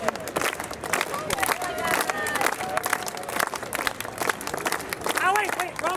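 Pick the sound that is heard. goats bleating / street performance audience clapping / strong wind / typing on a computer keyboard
street performance audience clapping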